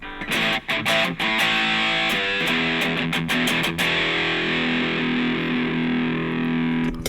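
An electric guitar plays through a Calsonics Boss DS-1 mod distortion pedal with scooped mids, giving a few choppy muted strums and then one thick, saturated chord left ringing and sustaining loudly to the end.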